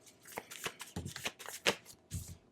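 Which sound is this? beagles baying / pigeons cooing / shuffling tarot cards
shuffling tarot cards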